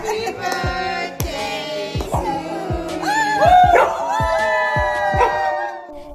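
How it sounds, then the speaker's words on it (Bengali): A dog at its birthday celebration barks in short, regular yips and then breaks into a rising, wavering howl, loud and close, with some background noise underneath. "এখানে কুকুরের মালিক কেক মোমবাতি জ্বালিয়ে কুকুরের জন্মদিন পালন করছিল"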